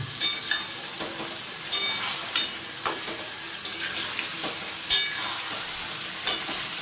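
Mutton sautéed in oil for kosha gives a continuous close sizzle, broken about every second by a sharp metal clink of the ladle stirring against the pot. No one speaks.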